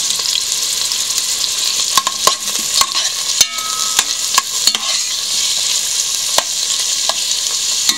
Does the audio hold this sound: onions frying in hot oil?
yes